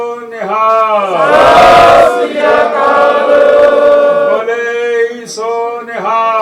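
A crowd of Sikhs at a press conference roars the jaikara response in a loud, full-throated group shout, between stretches of one man's raised chanting call.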